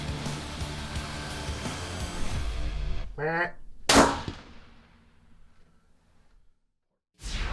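A single loud rifle gunshot aimed at a black hog on a South Texas whitetail ranch, a sharp crack with a decaying tail that fades to near silence, following a stretch of steady outdoor noise.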